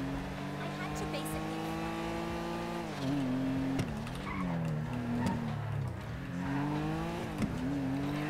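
A car in GTA Online riding along a wall at high speed: a droning engine note that dips and swells with gear changes, scattered scrapes and knocks, and a voice talking over it.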